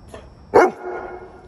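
A dog barks once in a hot rod garage, a single loud, close bark after a softer lead-in, with a faint yelp before it and quiet workshop room noise after.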